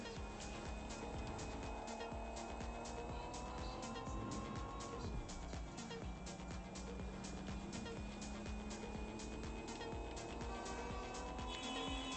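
A car in Watch Dogs Legion circles through roundabouts, its engine droning steadily throughout with tyre squeal and skidding layered over a constant backdrop of game music, loud and continuous for the whole stretch.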